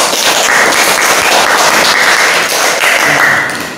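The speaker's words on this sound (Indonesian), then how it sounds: "tepuk tangan." Children clap together in a classroom after a Qur'an lesson on Surah Al-Fil, a loud, dense burst of hand claps that stays steady throughout and fades slightly at the end.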